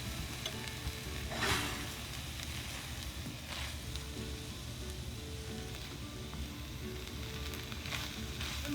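Ground beef patty filling sizzles and fries steadily in a pan over medium heat, a continuous close crackle with a few brief stirring scrapes and no voices.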